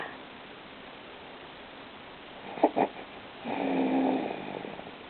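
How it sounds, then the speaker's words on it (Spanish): A baby snores after feeding, with two quick snorting breaths followed by a longer, rougher snore. The sounds are close and fairly quiet against a soft background hiss. "Este bebé ronca."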